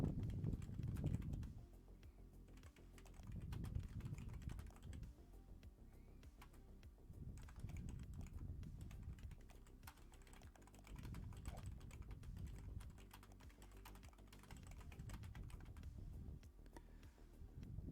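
Keys on a computer keyboard are tapped in quick, quiet bursts with short pauses between them, close and soft during an online game of Risk, with no speech.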